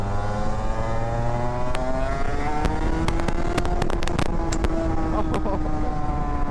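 A small competition vehicle's engine is blipped on the throttle, its drone rising in pitch while sharp crackling exhaust pops from flames burst out in scattered clusters near the middle.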